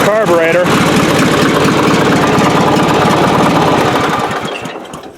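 A small engine on a lawn tractor runs loudly up close with a steady, slightly uneven throb, then fades toward the end; a voice speaks briefly at the start.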